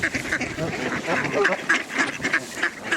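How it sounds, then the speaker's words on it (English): A flock of hungry park ducks quacking in repeated, uneven bursts, fairly close, with faint human voices mixed in. "They're a bunch of hungry birdies"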